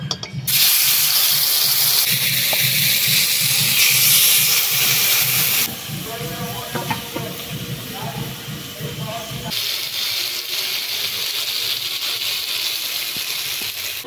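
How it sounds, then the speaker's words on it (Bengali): Marinated pangas fish going into a wok of hot oil, a strong hiss that shifts in intensity partway through and then settles into a steady, loud sizzle. "এবারে এই ম্যারিনেট করা মাছ কড়াইয়ের মধ্যে দিয়ে দিব।"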